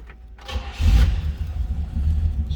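A 1967 Buick GS 400 engine fires up from a cold start, a brief crank then a loud, rumbling idle close by.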